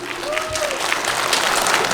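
Audience at a Boyko village Zelenivka festival applauding a traditional bush-leading rite, continuous dense clapping that holds steady, with a brief vocal tone near the start.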